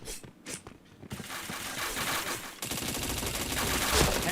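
Gunfire in a shooting video game: a few sharp early shots, then sustained rapid automatic fire and dense crackling bursts that grow louder toward the end.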